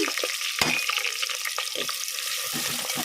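Chopped onions and green chilies frying in hot oil in a pan give a bright, continuous sizzle, with occasional stirring scrapes and clinks punctuating the crackle close up.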